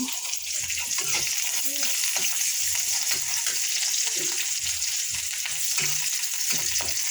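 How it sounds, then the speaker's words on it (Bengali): Onions sizzle in hot oil with a bright, steady hiss and irregular soft scraping from stirring, close and moderately loud. "তেল দিয়ে দিয়েছি তেলটা ভালোভাবে গরম হয়ে গেছে দিয়ে দেবো পেঁয়াজ"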